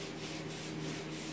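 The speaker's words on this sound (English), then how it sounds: "I'm just kind of dry sanding it just to scuff them up" Dry sanding a Nissan S14 car body panel fitted with a Rocket Bunny v2 Boss kit, using a 3M 320-grit sanding sponge during primer prep; a steady, close, continuous scratchy rubbing with no voices.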